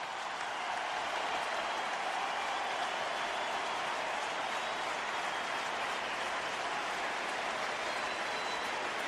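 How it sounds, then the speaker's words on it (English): Large stadium crowd at a 2006 Chiefs–Cardinals NFL football game applauding as a player gets back up, a broad, steady wash of distant clapping and cheering that holds at an even level throughout. "Gets a hand from this crowd"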